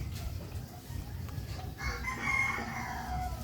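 Chickens clucking with a rooster crowing over them in a rural yard, the crow rising loud midway through amid steady background noise.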